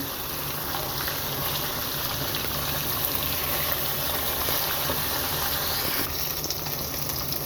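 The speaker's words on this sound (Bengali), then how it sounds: "আমি পাশে পাশ করে উল্টিয়ে মাছগুলোকে ভালো করে ভেজে নিলাম" Koi fish frying in hot oil after being turned over, a steady, dense sizzle and bubbling that runs unbroken at even loudness throughout, with no talking.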